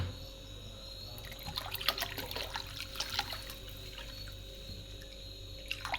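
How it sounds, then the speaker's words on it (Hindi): Water trickles and splashes in irregular bursts over a low steady hum, pouring into a pan for fish curry for a few seconds before tapering off. "और थोड़ा सा पानी डाल दूँगी"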